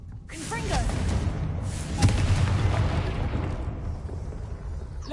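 Blasting-curse explosion in the Hogwarts Legacy video game, a loud dense boom with a sharp hit near the middle, heavy rumbling continuing underneath for several seconds while spell effects crackle through the busy game mix.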